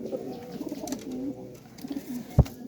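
Pigeons kept in cramped cages at home give soft, low, rolling coos, close by and fairly quiet, ending with a single sharp knock.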